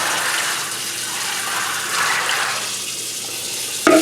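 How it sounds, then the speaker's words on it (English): A gallon of water mixed with a cup of hydrogen peroxide is poured over peas, making a continuous gushing, splashing stream at close range, with a brief clunk right at the end. "pour it over the peas."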